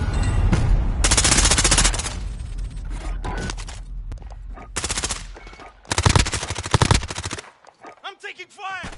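Bursts of automatic gunfire rattle in the video game Warzone, loud rapid volleys broken by short pauses, with voices calling out between the shots.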